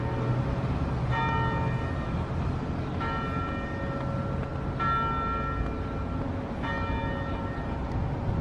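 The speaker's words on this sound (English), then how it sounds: "Oh, and the bell's gonna ring." Strikes of a church bell in Cumberland, Maryland ring out at a slow, regular pace over steady street background noise, each with a lingering metallic ring.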